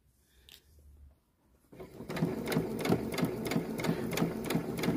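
A sewing machine stitches bias tape in a quiet room, a close rapid rhythmic clatter of needle strokes starting after a brief pause and a small handling sound.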